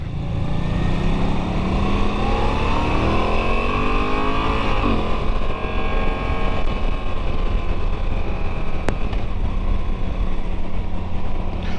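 A Moto Guzzi motorcycle's transverse-mounted engine is ridden continuously and loudly up close, its pitch rising and falling through gear changes as it revs and shifts.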